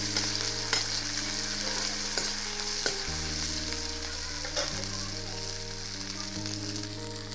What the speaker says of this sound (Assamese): ইয়াত মই তেজপাত দিছোঁ, বটি থোৱা আদাখিনি আৰু ভালদৰে লৰাই দিব।